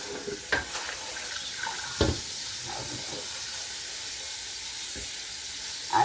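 Steady tap water runs into a pan while collard greens are rinsed in a home kitchen, a constant hiss broken by a few soft clunks and splashes, fairly close and without talk.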